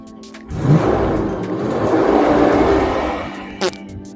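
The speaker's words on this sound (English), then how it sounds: "I'm gonna give it a little rev, you tell me what it does." A small American-built kei-style truck engine gets a brief rev, a broad rising roar that holds steady for a few seconds before dropping off, with a short knock near the end.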